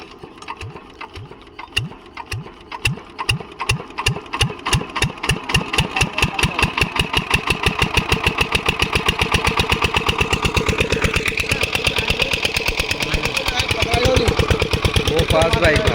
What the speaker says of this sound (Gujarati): હવે પહેલાં આપણે મશીન ચાલુ કરીએ એટલે પાણી ચાલુ થાય.